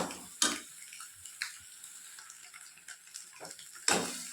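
Water simmers down in a cooking pot on a stove, giving faint, scattered pops and bubbling clicks over a soft background hiss, with a few sharper bursts.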